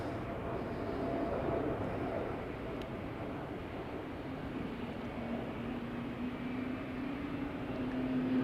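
An Embraer E2 jet airliner departing Amsterdam Schiphol Airport, a broad, steady engine roar heard from a distance with a slowly rising whine building toward the end.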